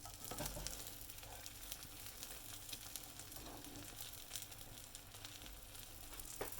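A flipped omelette sizzles softly in a pan of oil and butter, a steady, faint, close frying hiss with small crackles and no talking.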